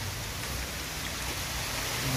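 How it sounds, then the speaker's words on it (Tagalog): Heavy typhoon rain pours steadily during flooding, a dense continuous hiss of drops drumming on a surface, loud and close with no pauses. "Ayan na naman ang ulan malakas."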